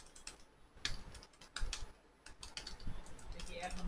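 Typing on a computer keyboard in a steady run of close, crisp key clicks with short pauses, as a voice speaks quietly beneath it.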